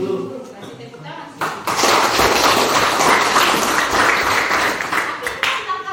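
An audience bursts into loud, dense applause that swells after a brief lull and carries on steadily, with the clapping filling the room up close.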